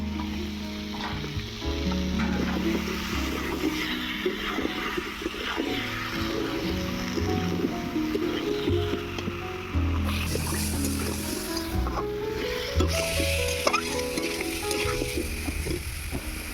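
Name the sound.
potatoes and kohlrabi frying in a pan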